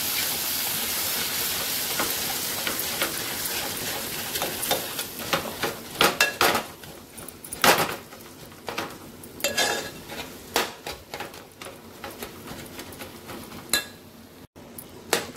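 Egg bhurji is stirred and turned in a pan with a spatula, giving a low sizzle broken by irregular scraping and tapping strokes that grow busier in the second half.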